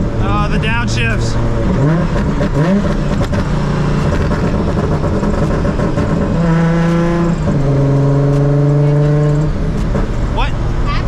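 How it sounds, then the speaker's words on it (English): Boosted Nissan 350Z racecar engine revving hard and dropping through downshifts, a loud, steady mechanical roar with rising and falling pitch sweeps, heard under people talking. "The sound of like it clicking into gear is very satisfying. It is. Oh, the downshifts."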